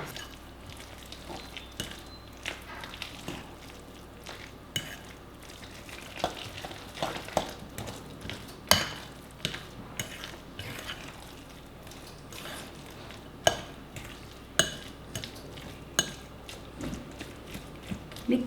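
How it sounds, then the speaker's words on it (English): Eggless panettone batter with yogurt is stirred in a bowl, making quiet wet squishing and scraping strokes with occasional sharper taps against the side, close but soft and without speech. "Mix it well."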